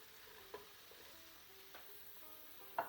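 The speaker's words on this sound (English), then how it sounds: "now what you do is you add all the loki into it" Bottle gourd cooking with dal in a pan gives off a faint low sizzle, and three soft scrapes or clinks come from a spoon stirring it.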